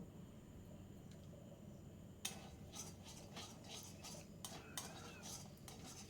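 A metal spatula scraping and tapping through eggs in hot oil in a wok, quiet at first, then a run of sharp clatters and scrapes, alone and fairly faint.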